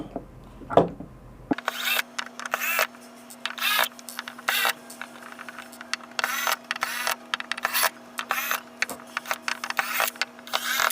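A power drill whirs in repeated short bursts, close up, opening the case of a DS18 DX4 four-channel Class D amplifier, with a steady hum underneath and brief pauses between each run.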